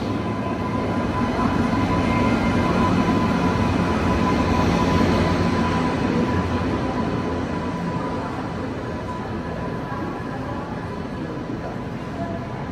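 Jammu Tawi Express passenger train running, a steady broad rumble with a faint sustained tone, continuous and fairly loud throughout, easing slightly toward the end.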